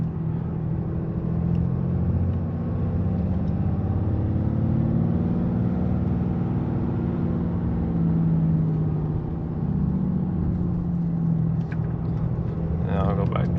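A stock 2023 Ram 2500 truck engine rumbles steadily in third gear without a cold air intake, a deep sustained drone that swells slightly as it revs, heard from inside the cab.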